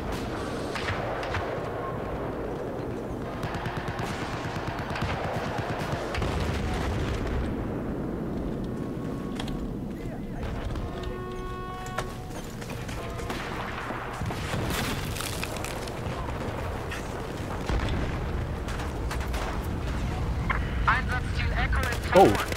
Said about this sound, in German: habt ihr mal gesehen, wie die Explosion den Turm hochkrabbelt?